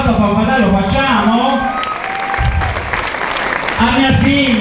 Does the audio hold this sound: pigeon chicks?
no